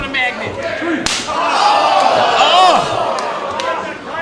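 A wrestler is hurled back-first into steel at a live indie wrestling match, producing a sharp metallic crash, followed by a loud, sustained crowd roar and cheering with a commentator talking over it.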